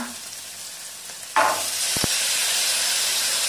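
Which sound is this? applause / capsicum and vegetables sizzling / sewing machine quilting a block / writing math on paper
capsicum and vegetables sizzling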